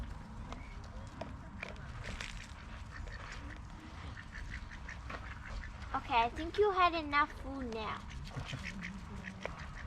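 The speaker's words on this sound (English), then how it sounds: "Oh, and the ducks come and clean up afterwards." Ducks at a wildlife sanctuary in Victoria, Australia quack as they scavenge leftover feed, a cluster of loud nasal calls in the middle under nearby talking and shuffling footsteps.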